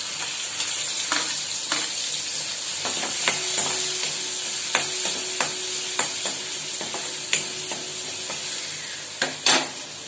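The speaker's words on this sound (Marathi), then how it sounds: "आता आपण कांदा टाकूया पहिला" Chopped onion frying in hot oil in a pan on a village kitchen stove crackles and sizzles loudly and steadily, with repeated sharp stirring scrapes and clinks of a spoon, and no voices.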